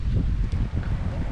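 Low, steady wind buffets the microphone outdoors near Mont St Michel, a continuous rumbling gust with no break through the short moment.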